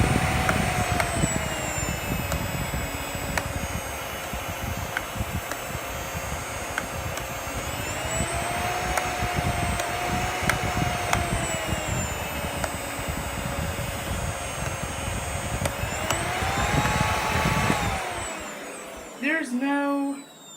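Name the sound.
Miele S5 Gemini vacuum cleaner running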